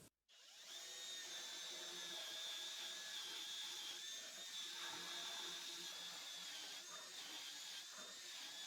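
A high-pitched power drill whines steadily and loudly for several seconds, with slight changes in pitch as it bites into material.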